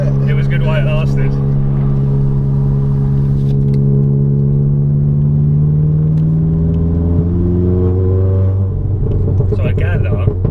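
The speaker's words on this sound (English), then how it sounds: "the first thing I do when I get in the car is just rev all the way to the top" A modified 421 bhp Volkswagen Golf R engine drones loudly from inside the car, with a sustained rumble that shifts in pitch as it climbs and settles, and voices are faintly audible beneath it.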